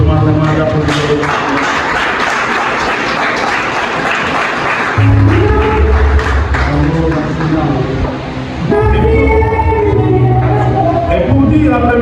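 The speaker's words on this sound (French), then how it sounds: "Je demande vraiment d'applaudir." A school celebration audience at Cours Saint-Vallier breaks into sustained applause, a dense wash of clapping that runs throughout, with voices mixed in and the crowd swelling louder partway through.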